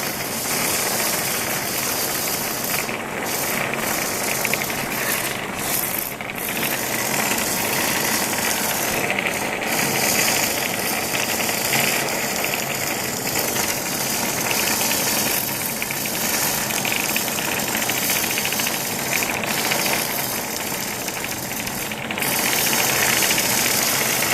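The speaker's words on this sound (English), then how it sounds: "And these ants just whiz around once they get going." Hexbug Nano and Hexbug Fire Ant toy robots whiz around, making a continuous buzzing, rattling vibration with small clicks and knocks as they bump each other and the walls, steady and close.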